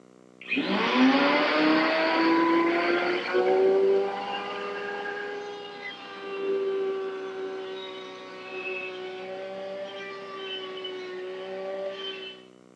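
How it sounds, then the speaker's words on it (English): A router table fitted with a 1/2 inch round-over bit spins up to a loud, sustained whine as blank stock is fed through to cut molding, the pitch dipping slightly under load and then winding down at the end. "I've set up my router table with a 1/2 inch rounding over bit, and I'm going to run this piece of blank stock through"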